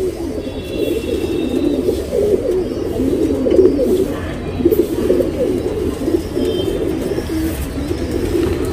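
A tournament racing pigeon coos repeatedly in a loft in Dasarahalli, Bengaluru. Its low, throaty cooing is close and fairly loud, with no talk over it.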